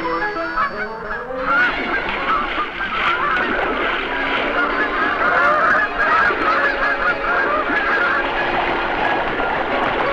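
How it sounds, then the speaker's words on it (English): Hybrid geese, crosses between Canada and snow geese in a crowded nesting colony where ganders guard their nests, honk continuously in a dense, overlapping chorus with many birds calling at once, steady and fairly loud throughout. "a really strange bird, a cross between a Canada goose and a snow goose"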